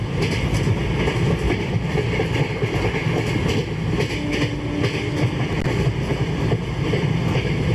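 A pair of freight locomotives in the Train Simulator game haul a heavy goods train with a steady, loud chugging rumble and rail clatter that continue without a break.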